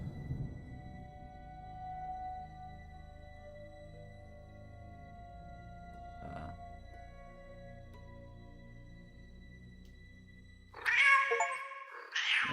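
A cat in the Dark Nights with Poe and Munro game gives a clear, drawn-out meow near the end, after a long stretch of quiet sustained tones and a brief soft sound midway.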